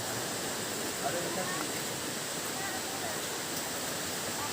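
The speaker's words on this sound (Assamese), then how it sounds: "ইয়াৰে ওচৰৰে নদী এটা বৈ গৈছে" A river flowing near a living tree-root bridge in the village of Mawlynnong, Meghalaya, gives an unbroken rushing wash of water at moderate volume, steady throughout with no pauses.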